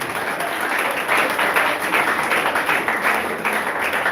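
Audience applause at a conference, a steady wash of many hands clapping together, fairly close and full, holding at an even level for several seconds with no talk over it.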